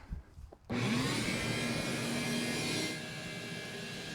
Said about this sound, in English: you simply turn the vacuum cleaner on